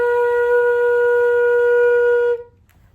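A flute sounds a single sustained B, clear, loud and steady with a pure tone, held for over two seconds before cutting off cleanly into near silence.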